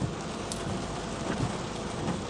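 Steady rain falls over a congested five-lane road during morning rush-hour traffic, a dense continuous hiss with no talk.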